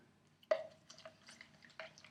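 Homemade hand sanitiser gel pours through a funnel into a container, giving a soft wet splat at the start, a faint trickle and a second gloopy splash near the end, all quiet and close.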